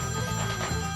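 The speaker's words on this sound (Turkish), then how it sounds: "İsmail Bey telefonu." A telephone rings steadily for a short stretch, a continuous buzzing trill that holds at a moderate level with no voices over it.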